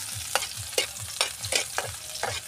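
Ingredients sautéing in a pan before bitter gourd is added, with a steady rhythm of about five spatula scrapes over a low sizzle, close up and with no voices.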